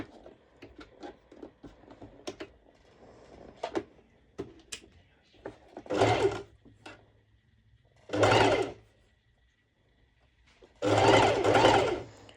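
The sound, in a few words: sewing machine doing straight stitch on fabric layers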